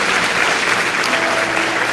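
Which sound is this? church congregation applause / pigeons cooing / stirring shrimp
church congregation applause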